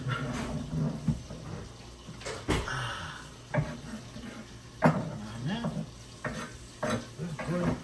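Onions frying in a pan for a turmeric seafood pasta dish, a soft sizzle broken by repeated scraping stirs and clinks of utensil on metal, with someone talking intermittently nearby.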